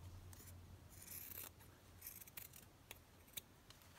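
Scissors trimming fabric in a craft workshop, a soft series of close, quiet snips and rustles with short pauses between cuts.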